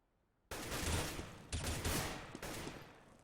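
Bursts of gunfire from an esports match between LGB eSports and GPlay, a sudden loud volley followed by repeated rapid shots in two or three clusters, with no voices over them.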